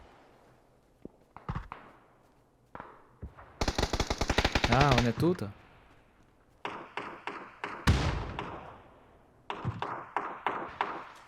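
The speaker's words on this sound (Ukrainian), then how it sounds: "Якийсь чумоход ззаді стріляє." Bursts of rapid gunfire from a distance in the video game PlayerUnknown's Battlegrounds, with single shots and thuds in between, while someone speaks briefly.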